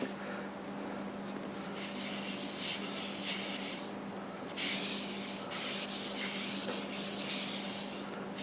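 Steady brushing and rubbing strokes across turned wood, a soft continuous hiss with rhythmic swells as shellac sanding sealer is wiped on, no talking.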